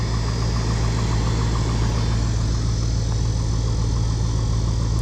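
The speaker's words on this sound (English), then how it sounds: "you hear that lower end knock?" An old truck engine idling steadily with a low, rhythmic lower end knock pulsing underneath, constant and close, with no talking.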